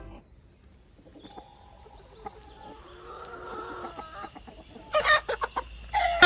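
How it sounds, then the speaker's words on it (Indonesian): Hens cluck and a rooster calls in a farmyard, with a burst of louder crowing near the end over a low rumbling background. "3 ayam jago yang berkokok di pagi hari"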